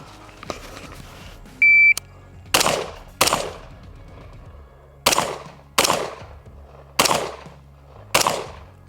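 An AR15 rifle fitted with a CMC drop-in trigger fires six loud, sharp shots at an outdoor range during a box drill: two quick pairs, then two single shots. A shot timer beep sounds just before the first shot.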